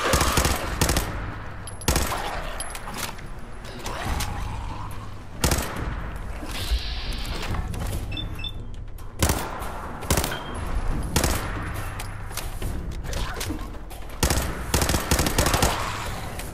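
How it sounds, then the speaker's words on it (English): Sustained rapid gunfire from a firefight in Fallout 4, loud and continuous with repeated sharp bursts and single shots throughout, no talking. "someone's shooting somebody"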